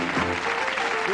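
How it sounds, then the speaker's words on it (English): Studio audience on a 1984 TV game show applauds contestants, a steady burst of clapping throughout with faint voices mixed in. "Give them a nice round of applause."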